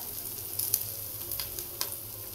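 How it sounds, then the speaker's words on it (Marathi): Chopped onion frying in a pan for egg bhurji gives a close, steady sizzle with faint crackles and occasional stirring scrapes, with no voices over it. "लालसर कलर होईल इथपर्यंत कांदा भाजून घ्यायचा बघा"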